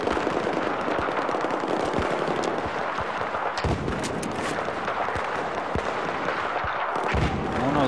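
Rapid gunfire from a video game pistol-versus-sniper fight, dense bursts of loud shots crackling continuously with sharper cracks scattered throughout.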